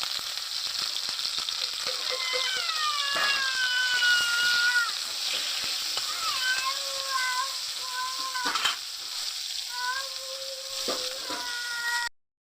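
Bitter gourd frying in a little oil, a steady close sizzle and crackle running throughout with occasional stirring knocks, while a cat meows repeatedly nearby.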